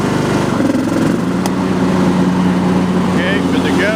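Husqvarna YTH20K46 riding lawn mower running loud and close with its cutting deck engaged, a steady droning engine hum and whine, with a voice talking over it.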